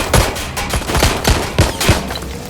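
Incoming gunfire in Watch Dogs: Legion, a rapid burst of about eight or nine loud, close shots in an even rhythm, alone without talk.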